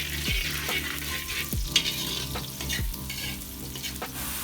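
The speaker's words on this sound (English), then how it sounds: "we're going to put in our onions and garlic, and we're going to saute this until it turns nice and fragrant" Onions and garlic sizzle steadily in hot oil in a pan, with a constant frying hiss and a few sharp stirring scrapes and clanks of a utensil every second or so.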